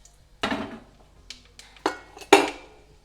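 Whole cloves, bay leaves and mace tipped into hot oil in a cooking pot for a Kerala-style vegetable biryani, giving four or five separate clinks and clatters with short sizzling tails, close and clear with no talk.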